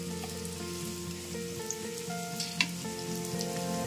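Onions with ginger and garlic fry gently in a pan, a soft, quiet sizzle with light crackles and occasional stirring scrapes, alongside a steady background hum and no talking.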